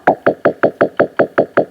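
A Synclavier Go synthesizer plays a pitch-shifted note, repeated as a steady run of about nine sharp, percussive plucks in quick even rhythm, close and loud with no talk.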